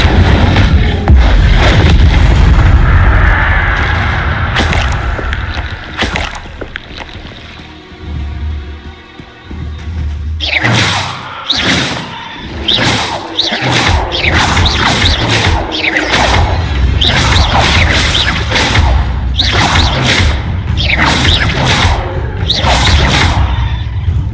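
Incendio fire spell blasts in the Hogwarts Legacy video game: a run of loud, punchy bursts and crashing impacts in quick succession, following a rumbling, mechanical stretch of game sound.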